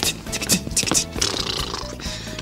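Horse sound effect in a children's music show, a brief burst of hoof clip-clops mixed with a whinny and snorting, loud and close over a busy musical backing.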